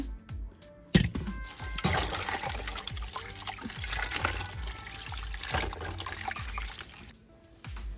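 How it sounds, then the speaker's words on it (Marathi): Raw green mangoes are rinsed and rubbed in running water, a steady close trickle and splash with small clunks of fruit against the vessel, stopping near the end. "कैऱ्या अगोदर धुवून घ्यायच्या स्वच्छ"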